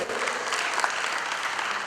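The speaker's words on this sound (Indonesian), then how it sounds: "Berikan tepuk kepada diri kita semua" Audience at a church convention applauding themselves, an even, continuous patter of many hands clapping at moderate loudness.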